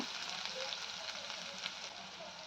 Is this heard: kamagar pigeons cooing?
no